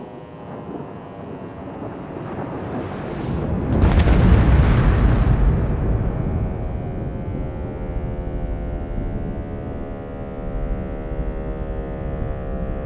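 A deep explosion swells into a loud rumbling roar with a rushing, wind-like texture, then fades into a long, sustained low drone.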